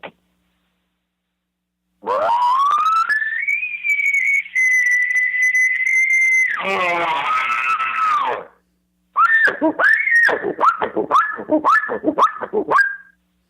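A reed call imitates an elk bugle: a long rising whistle held high, a lower raspy section, then a string of sharp chirping squeals, loud and close.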